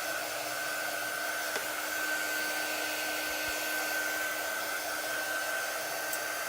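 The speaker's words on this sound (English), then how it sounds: "give it a little shot of air with our quick dry tool" A quick dry tool blows a steady, loud stream of air over a rustic round pumpkin bundle box craft project, an unbroken hair-dryer-like whoosh with a faint whine throughout.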